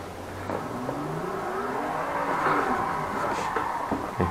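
Car drifting and spinning out after too-slow opposite lock, engine revving with rising and falling pitch and a tyre-scrubbing whine, moderately close and steady for a few seconds.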